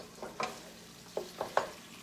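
Hamburger meat nearly done in a pan, a quiet, low sizzle with a few soft scraping stirs spaced through the clip.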